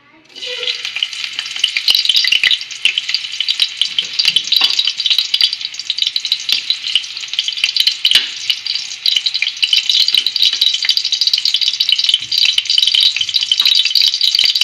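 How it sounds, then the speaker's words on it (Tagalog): Onions sautéing in a pan for fish sinigang with malunggay, a loud steady sizzle that carries on without a break, with occasional stirring clatter and no talk. "Gigisahin na po natin ang sibuyas"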